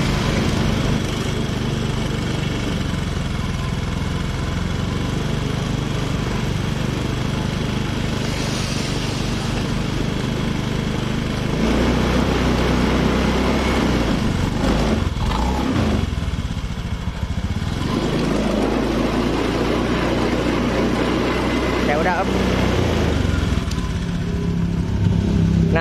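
Honda motorcycle engine running close and loud with a rough, sputtering misfire, its steady drone broken by uneven stuttering pulses and shifts in load over a long stretch.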